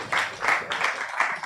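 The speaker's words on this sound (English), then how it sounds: "Please let's give him a round of applause as he comes up. Please keep clapping, don't stop." Conference audience at a blockchain business event claps for a speaker coming up, a steady patter of many hands in rhythmic waves, moderately loud in a hall.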